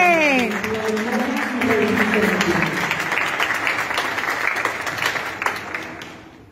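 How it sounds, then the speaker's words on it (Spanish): A crowd at a youth council recognition gala in Comuna 16, Belén, breaks into applause; a voice speaks briefly at the start, then steady clapping carries on and fades toward the end. "Un aplauso."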